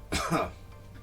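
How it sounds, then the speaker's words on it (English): A single short, rough cough or throat-clearing, close and brief, followed by quiet. "I noticed that I'm coughing now."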